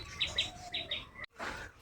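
Cockatiels in a cage give several sharp, high chirps in quick pairs, close and fairly clear, followed by a brief rustle and another chirp.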